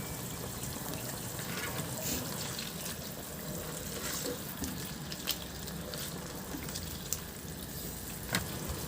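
Water mixed with ketchup heats in a pan toward a boil, giving a steady bubbling, sizzling hiss with occasional small pops, close and continuous.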